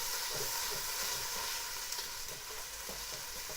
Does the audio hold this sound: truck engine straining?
no